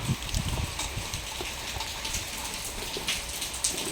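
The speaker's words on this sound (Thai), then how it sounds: "ฝนมาอีกละรอกหนึ่งแล้ว" Heavy rain pours down in a dense, steady hiss, drumming close by on surfaces throughout.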